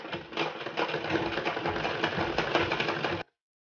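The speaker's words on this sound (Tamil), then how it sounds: "ஃபுல்லாக இப்போ நான் எப்படி தைக்கிறதுன்னு காட்டுறேன்." A sewing machine runs steadily for about three seconds as it stitches two layers of cloth together at a tailoring lesson, then stops abruptly, with a close, even mechanical whir and no talking.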